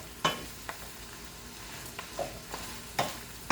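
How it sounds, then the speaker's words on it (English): Shredded cabbage and smoked ham are stirred in a frying pan: a utensil scrapes the pan in sharp, irregular strokes over a faint, steady sizzle, with no one speaking. "Okay, so now I have my cabbage in. And I'm going to get it all mixed up."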